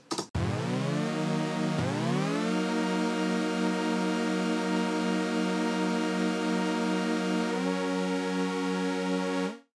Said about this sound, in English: I made this one with the Alchemy.